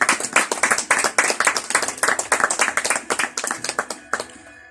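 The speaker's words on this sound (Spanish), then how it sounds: "Dale palmas al Señor." A church congregation claps their hands in rhythmic unison at a sermon, loud and close, with steady repeated beats that break off near the end.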